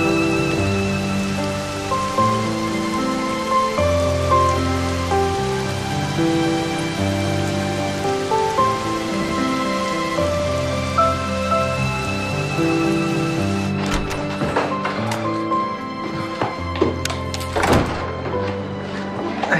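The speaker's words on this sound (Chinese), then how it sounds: "下雨了。" Rain falls steadily as a continuous patter under soft background music. Several dull thumps and splashes stand out toward the end.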